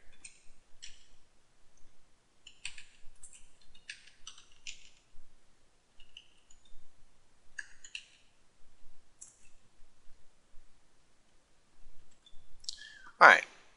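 Keys tap on a computer keyboard while text is typed into Notepad, in scattered quiet bursts of clicks with pauses between, ending in a louder thump.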